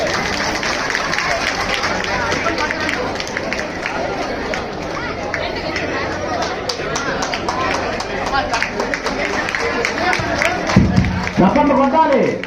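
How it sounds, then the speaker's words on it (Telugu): A crowd claps hands steadily and continuously at a local political gathering, a dense patter of applause with voices and chatter mixed in, swelling toward the end. "చప్పట్లు కొట్టాలి"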